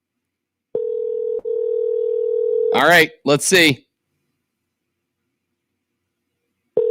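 A steady telephone dial tone sounds for about two seconds, then someone speaks briefly; after a pause, the tone returns at the very end, leaving a long silent gap in between.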